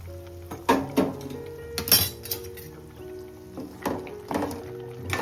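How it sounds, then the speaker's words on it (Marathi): Metal plate lid lifted off a cooking pot of prawn curry with drumstick pods, giving several sharp metallic clinks and ringing clatters, some close together and others spaced out, loud and close with no voices. "आपण ताट काढून बघूया"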